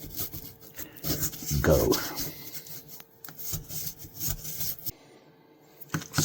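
A cloth rubs back and forth to polish the blade of a vintage Sabre Slimline knife, a soft, uneven scraping rasp close by, with a brief word spoken.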